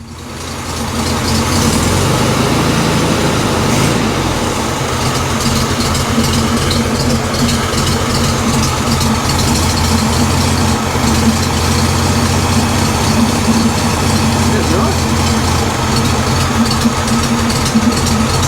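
A 1970 Volkswagen Beetle engine idles roughly and still chokes, a loud, steady low rumble heard close and alone for the whole stretch.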